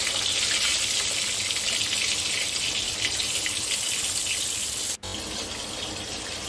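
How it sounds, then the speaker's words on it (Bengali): Steady loud sizzle of eggplant slices frying in hot mustard oil in a pan, a dense unbroken hiss that drops out for a split second near the end. "বেগুনটাকে ঢাকা দিয়ে ভাজবো যাতে বেগুনটা নরম হয়ে যায়"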